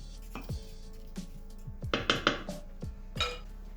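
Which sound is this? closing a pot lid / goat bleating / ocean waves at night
closing a pot lid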